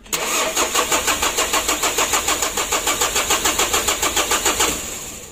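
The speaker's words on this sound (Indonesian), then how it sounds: "Kita coba starter." A Mitsubishi L300 diesel engine, a 2017 unit being assembled, cranks on its starter in a steady rapid rhythm of about twenty even pulses for several seconds, close and loud, then the cranking stops without catching.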